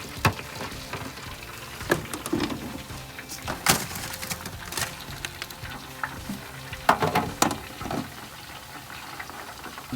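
Onion rings fry in a deep fryer, a bubbling oil hiss with irregular bursts, knocks and metallic clatter from handling the basket, near and fairly loud, no one talking.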